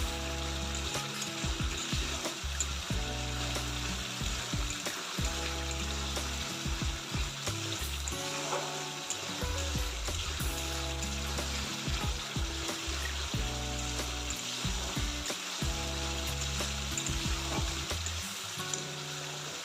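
A pan of fish dish stirred after a little water is added, with a continuous sizzling bubble and repeated scraping strokes of a spoon against the pan, close and steady throughout.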